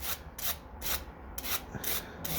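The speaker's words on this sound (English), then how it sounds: "take your nail file or your sanding block and just going to go over the top" Repeated rasping strokes of a nail file or sanding block rubbing back and forth over jewelry edges, about six rhythmic passes, close and quiet with no talking.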